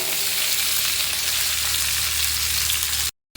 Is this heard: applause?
no